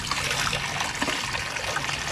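Water poured or trickling for a native pig, a steady close splashing and gurgling stream throughout with no talk.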